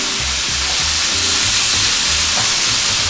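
Beef tips browning in a hot pan, with a steady loud sizzle and hiss running throughout, alone with no talking.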